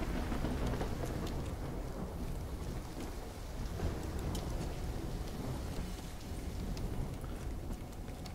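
Storm with heavy rain and thunder in the video game Black Ops 3, a faint, constant rainy wash with low rumbling swells and scattered sharp patters throughout, no voices.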